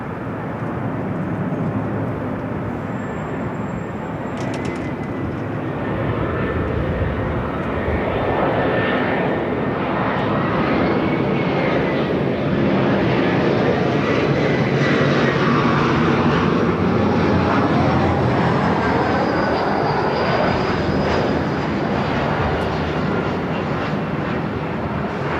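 A loud, sustained roar of an Airbus A380 at Los Angeles LAX airport swells and passes nearby, a broad rumbling jet noise with a faint whine drifting through it, heard alone without talk.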